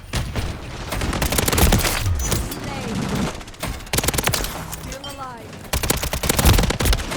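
Rapid automatic gunfire from a shooter video game on the cramped Shipment map, with sustained bursts and short gaps, loud and close, broken by brief pauses across the span.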